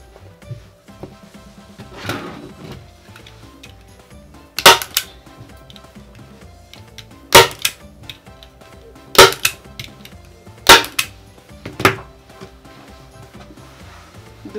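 Staple gun driving staples into fabric stretched over a plywood ironing board: five sharp, loud snaps at irregular intervals, with quieter handling noise of fabric and board between shots.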